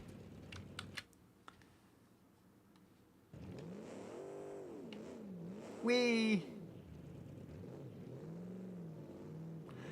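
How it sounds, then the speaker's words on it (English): Video-game car with a 7-litre pushrod V8 and four turbochargers, engine note rising and falling in revs on an icy summit road, with a brief sharp peak, under a voice calling out over it. "It's got like a 7-litre push-rod V8. I think with 4 turbos on it."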